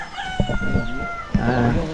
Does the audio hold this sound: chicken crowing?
yes